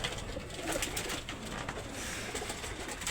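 Racing pigeons cooing in a basket holding two eggs, soft repeated coos over a steady background hiss, close by and moderately quiet, with no talking.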